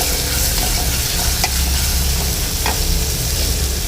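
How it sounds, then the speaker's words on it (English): Ginger-garlic paste frying in a hot pan with other ingredients, a steady dense sizzle throughout with occasional light scrapes of stirring, close and fairly loud, no talking. "Now I'll just fry these three things together nicely"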